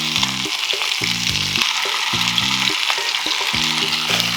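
Chicken pieces fry with ginger garlic paste in a pan, giving a loud, constant close sizzle with occasional stirring clicks and a tonal hum in the background.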